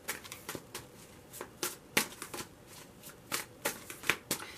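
A tarot card deck is shuffled close up in a string of quick, crisp riffling bursts with short pauses between them, fairly quiet overall and with no talking.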